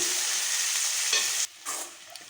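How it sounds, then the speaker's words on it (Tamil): Eggplant sautéing in a pan over a high flame, a loud, close, steady sizzle with stirring scrapes that cuts out briefly and then returns more quietly, no talking. "இது ஒரு அஞ்சு நிமிஷம் அப்படியே ஹை ஃப்ளேமில் வச்சு வதக்கி விட்டிங்கனாலே வதங்கிரும்"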